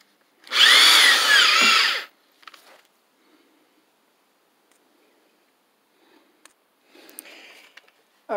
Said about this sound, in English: Now we're going to drill.